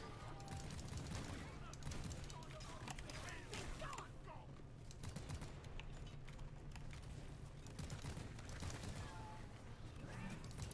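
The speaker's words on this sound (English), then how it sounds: "So how do you like the new driller gun, Dill?" Rapid mechanical gunfire from a driller gun in a sci-fi mining co-op game, a continuous dense stream of clattering shots with whirring machinery under it, running steady and loud for the whole stretch.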